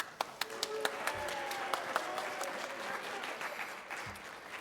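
An audience claps from scattered early hand claps into a sustained round of applause for the AV team working up in the balcony, heard from a distance with a few sharp individual claps standing out.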